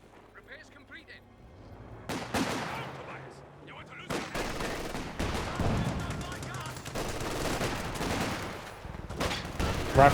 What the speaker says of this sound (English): Rifle grenade fire, he will dodge it